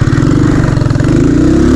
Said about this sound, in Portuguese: é porque é moto com carburador